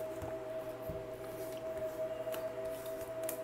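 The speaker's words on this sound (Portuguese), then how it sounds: "Então vou embaralhar novamente." Tarot cards being shuffled by hand, a soft, faint rustle with light flicks and taps over a steady low hum, no voices.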